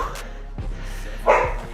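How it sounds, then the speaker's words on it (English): A dog lets out a couple of short barks indoors, one brief yelp early and a louder bark near the end, close to the listener with no voices over it. "Stop barking. Why are you barking?"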